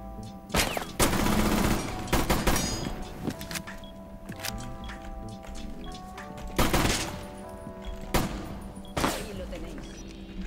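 Rainbow Six Siege gunfire in repeated sharp bursts, loud and close, separated by brief pauses, with mechanical in-game sounds between volleys.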